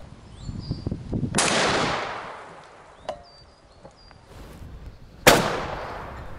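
Two rifle shots fired at a fox during a fox drive: a loud sharp crack followed by a long decaying tail, then a fainter bang, and a third sharp crack near the end, with faint bird chirps between.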